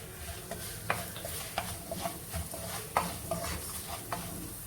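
Chili powder and black pepper powder are sautéing in a pan for shark fish pickle, giving a soft steady sizzle broken by occasional scraping stirs, faint and without talk.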